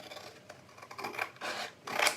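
Scissors cut out a traced template piece up close, a series of rasping snips that grow louder and more frequent toward the end.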